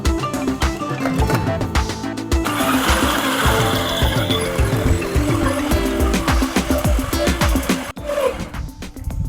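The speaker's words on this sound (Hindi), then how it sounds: "अब इसको हमने पीसना है सारे मिक्सचर को" An electric grinder runs continuously, churning a chicken gola kebab mixture, loud and close with a rough, fluctuating motor whine and clattering blades for most of the clip before briefly easing near the end.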